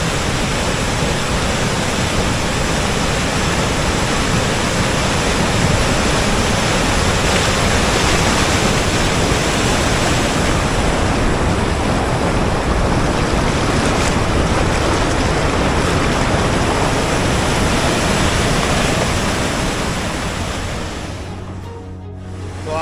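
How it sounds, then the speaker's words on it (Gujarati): The swollen Madhvanti river in the Gir area near Mendarda, rushing during heavy rain, makes a loud, dense, unbroken roar of torrential water that fills the whole stretch before easing slightly at the very end. "તેનો આ ધસમસતો પ્રવાહ"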